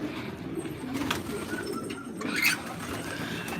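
A flock of domestic pigeons coos softly in a loft in Osmaniye, with a steady murmuring low coo layered throughout and a brief brighter flutter or call near the middle, no voices present.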